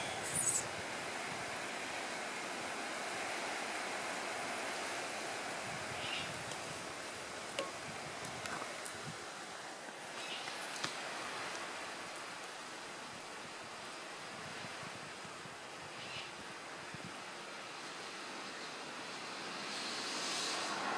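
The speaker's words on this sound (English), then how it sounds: "This is the beautiful rain I'm talking about." Rain falls steadily outside, a soft, wide hiss with scattered faint drip ticks, even and moderately quiet throughout with no one talking.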